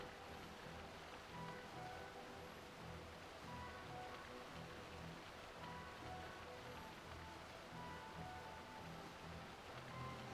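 Rain falls in the Final Fantasy XII game, a soft, steady patter of drops that stays faint and even throughout, with no voices.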